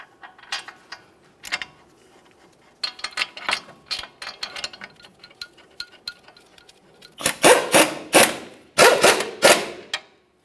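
A ratchet snugs the steering knuckle mounting bolts on a 1999-2006 Chevrolet Silverado 1500, with quick bursts of clicking separated by short pauses and the louder, fuller runs near the end, close up with no talking.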